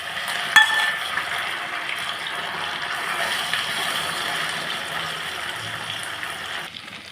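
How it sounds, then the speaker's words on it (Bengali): Taro pieces sizzle in hot mustard oil seasoned with dried red chili and nigella seeds, a moderate, even frying hiss after an initial splash as they drop in. "তেল গরম হয়ে গেছে, আমি এবার কচুগুলোকে দিয়ে দিলাম।"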